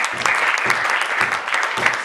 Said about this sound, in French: Et nous acclamons le Seigneur encore.